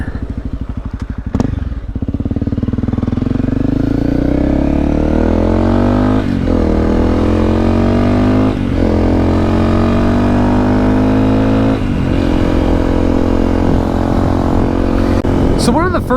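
A Honda CRF250L dual sport motorcycle runs loud and close, its engine revving up through several gear changes with rising and falling pitch over about sixteen seconds.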